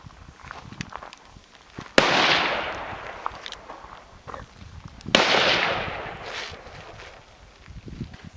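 Two sharp, loud rifle shots fired from the offhand standing position, each a crisp crack followed by a long rolling echo fading over about two seconds, outdoors.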